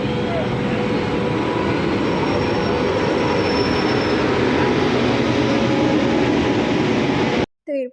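A train at Hasibazar railway station in Murshidabad, heard close and loud as a continuous rolling rumble with metallic wheel squeal, cutting off abruptly near the end.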